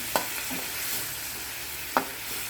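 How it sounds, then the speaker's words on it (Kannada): Vegetables and dried prawns frying in a pan give a soft steady sizzle, broken by two sharp scraping strokes of a spatula stirring, close and without talk. "ಫ್ರೈ ಆಗ್ತಾ ಉಂಟು."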